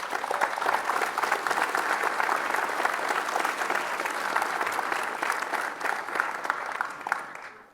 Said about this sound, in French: permettez-moi qu'on les applaudisse ensemble pour les services inestimables qui rendent au quotidien à nos populations